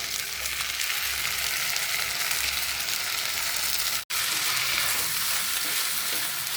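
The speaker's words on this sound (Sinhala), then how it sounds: "සෝස් එක ටිකක් කලවම් කරලා අරගන්න." Kangkung (water spinach) stir-fries with a sauce in a pan for a Chinese-style devilled dish, giving a steady, loud, close sizzle that breaks off briefly partway through before resuming.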